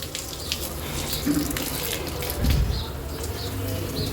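Water gushes steadily from a pipe outdoors, a continuous rushing flow with faint bird coos in the background and a brief louder splash partway through.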